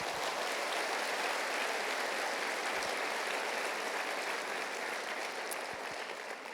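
Church congregation giving a strong round of applause, steady dense clapping heard at a distance and fairly quiet, continuing evenly throughout.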